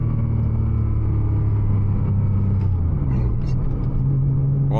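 Heavily modified 700 hp Porsche Cayman 987 Turbo driven at night, a steady loud engine drone with low harmonic rumble that shifts pitch partway through as the car changes load, heard from inside the cabin without talk.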